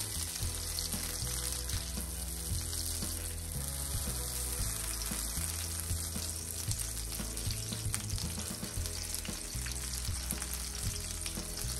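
Shrimp sauté in melted butter in a pan, giving a steady, even sizzle and frying crackle that holds throughout at moderate volume, close up, with no speech.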